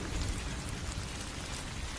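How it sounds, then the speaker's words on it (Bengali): Heavy rain in a storm over a flooded river, a steady hiss of downpour with a low rumbling undertone, fairly faint and continuous with no voices. "এত বৃষ্টি, এত ঝড়"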